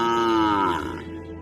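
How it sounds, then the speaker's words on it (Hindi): A frightened cow gives one loud, drawn-out low close by, tapering off in pitch and strength toward the end. "वो डर के मारे रंभा रही थी"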